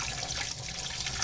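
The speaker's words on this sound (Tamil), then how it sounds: "ஃபஸ்ட்டு வாஷ் தண்ணியில் நல்லா டேப் தண்ணியில் நல்லா வாஷ் பண்ணிடணும்" Tap water runs steadily over goat meat being washed in a sink, a close, continuous splashing rush with no talking.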